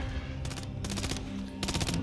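Rapid bursts of automatic gunfire from a hip shot in a shooter video game, two or three quick volleys over a steady game background hum.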